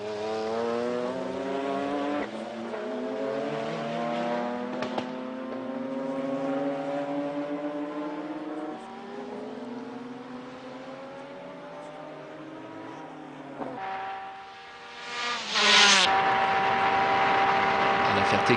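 Onboard a Honda NSX race car during the Le Mans 24-hour race, the engine loud and close, holding high revs, dropping with downshifts and climbing again on acceleration, over a steady rush of wind.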